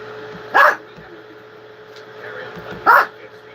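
A dog barks twice, two short, loud, separate barks about two seconds apart, over a steady low background hum.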